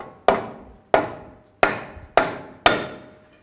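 A dead blow hammer strikes a front lower control arm on a 2011–2015 Chevy Cruze five times in a steady rhythm, each blow loud, close and sharp with a brief decaying ring.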